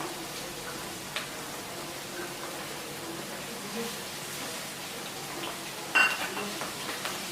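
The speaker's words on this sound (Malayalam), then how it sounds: "എന്നിട്ട് നമുക്ക് ഇളക്കി കൊടുക്കാം." Ginger and onions are stirred in a pan for liver curry, a faint frying sizzle under soft scraping of a utensil, with a louder clank of metal near the end.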